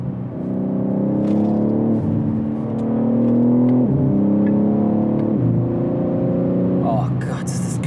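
A BMW M3 Touring in a sport drive mode accelerates hard, its engine note climbing through the gears with a dip at each shift, loud and close from inside the car, with brief exclamations near the end.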